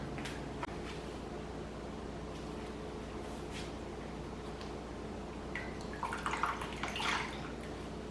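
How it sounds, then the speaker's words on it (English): Running water splashes and drips as a hand-dyed yarn skein is rinsed, a soft steady trickle with occasional louder sloshes and squishes near the end, fairly quiet and close. "I'm gonna go rinse this out."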